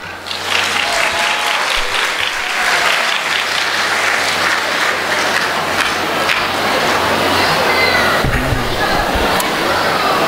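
Loud, sustained audience applause at a Tibetan community event in Switzerland, a dense wall of clapping close by that continues steadily throughout.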